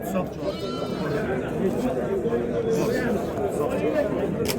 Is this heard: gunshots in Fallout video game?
no